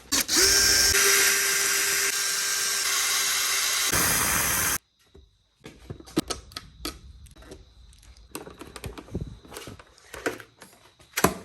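Power drill backing screws out of a Suzuki GSXR1000 motorcycle visor: several seconds of loud steady whirring up close, then it cuts out and is followed by scattered clicks and small plastic taps.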